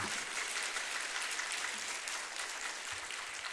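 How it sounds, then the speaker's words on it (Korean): A church congregation applauds its choir during a New Year blessing service, a soft, distant wash of continuous clapping heard faintly and evenly for a few seconds. "우리 박수 한번 합시다."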